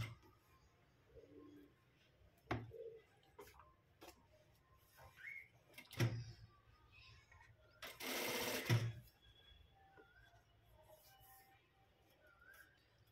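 A sewing machine stitches a blouse in a quiet room, with a loud steady burst of stitching lasting under a second amid soft handling noises and a few faint bird coos in the background.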